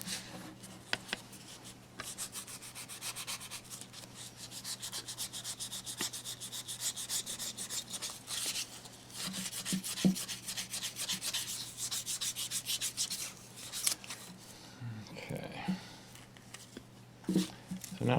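Fine sandpaper rubs over a milliput-filled chip repair on a Chinese porcelain bowl, producing close, scratchy back-and-forth strokes in irregular bursts, with small knocks and handling noises in between.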